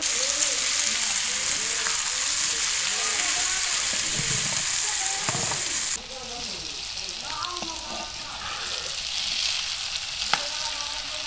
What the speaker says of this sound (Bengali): আলুগুলো আমি সামান্য একটু হলুদ এবং লবণ দিয়ে ভালো করে ভেজে নিব